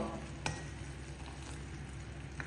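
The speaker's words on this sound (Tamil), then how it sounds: "இப்ப நீங்க அடுப்பை கொஞ்சம் சிம் பண்ணிட்டு அதுக்கப்புறம் மெதுவா கிளறுங்க." Sugar syrup for sakkarai athirasam stirred slowly in a pan on low heat, a soft steady sizzle with a couple of faint scraping knocks, close and without talk.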